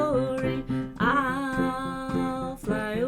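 Piano in an upbeat gospel style, the left hand bouncing in a two-step pattern under a sung melody of "I'll Fly Away", steady and fairly loud with a lively, driving pulse.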